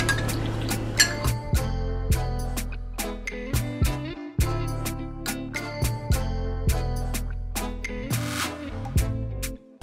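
A spoon clinks repeatedly against a glass while fat burning tea is stirred, producing bright ringing taps in an uneven rhythm, close and clear, with soft liquid swirling between strikes.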